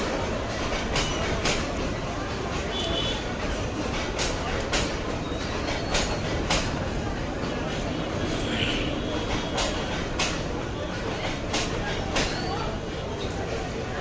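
A crowded passenger train pulls into Sreepur railway station in Bangladesh at night. It rumbles loud and close with rhythmic clickety-clack wheel beats, and crowd voices and chatter run underneath.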